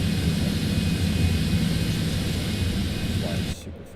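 A steady airplane engine drone from a flight simulator game, broadband roar with low rumble running continuously, then dropping abruptly quieter near the end.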